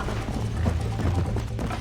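A horse's hooves clop steadily in Red Dead Redemption, close and continuous under a low rumble of game ambience.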